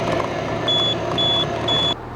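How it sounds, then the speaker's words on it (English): Three evenly spaced high-pitched overspeed warning beeps from an AirWheel self-balancing wheel sound over a steady motor hum, each beep lasting about a quarter second. "the AirWheel tips back a little bit to slow you down, but also, annoyingly, it beeps"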